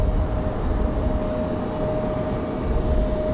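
A FedEx cargo airplane arriving at Raleigh-Durham airport gives a steady, broad jet roar with a thin sustained whine, heard from a distance on a windy day, with no voices.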